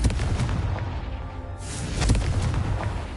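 A Confringo spell blast in the video game Hogwarts Legacy sounds as loud booming bursts with a crackling rush, one blast landing near the middle, then rolling noise and a heavy thump, with no talk.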